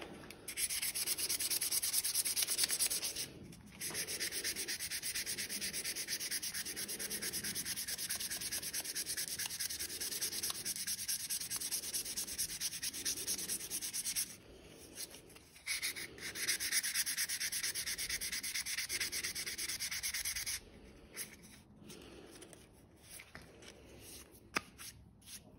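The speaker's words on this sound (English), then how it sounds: "just a little bit more sanding you're gonna have to do" Wood being sanded by hand to fix flat spots, a steady rhythmic scratchy rasp of strokes that repeats for long stretches with brief pauses, close and quiet.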